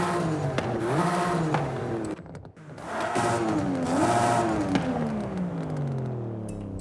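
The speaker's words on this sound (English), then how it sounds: "But here you can see the different exhausts," Car exhausts rev in the racing video game Forza Horizon 5, two rising and falling engine revs with a short gap between, loud and close, with no talk.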